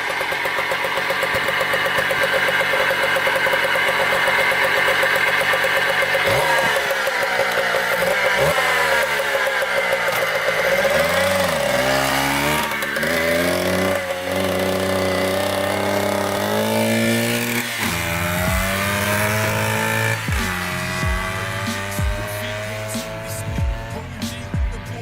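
Small carbureted engine freshly cleaned and out on a road test drive, running continuously and loud, with repeated revs rising and falling as it accelerates and lets off.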